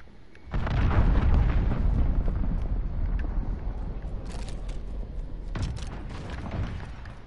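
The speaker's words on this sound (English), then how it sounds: "Enemy cruise missile." A cruise missile explodes in a Call of Duty match: a sudden heavy boom followed by a long rumbling roar, with a second blast and debris crackle a few seconds later.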